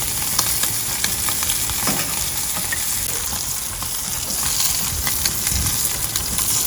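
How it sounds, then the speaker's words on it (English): Steaks frying in clarified butter in a skillet, a continuous close hiss and crackle with scattered small pops and light movement, with no one speaking. "So now we're just gonna get some of our clarified butter in here."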